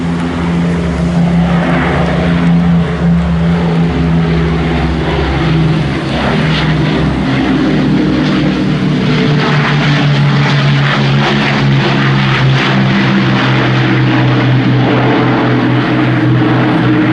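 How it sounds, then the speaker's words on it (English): A Battle of Britain Memorial Flight propeller aircraft makes its gear-down flypast at an airshow, a loud, steady piston-engine drone that holds strong throughout with a slowly shifting pitch and no talk over it. "now running back in from the left, you can see she's got her gear down now. So it's the gear down pass."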